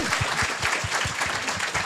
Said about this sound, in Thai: ปรบมืออีกสักครั้งหนึ่งนะครับ